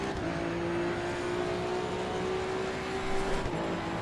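A car engine in the racing game Assetto Corsa EVO drones steadily and loudly, holding a sustained revving tone at a fairly constant pitch for the whole stretch, with a faint rise near the end and no talk.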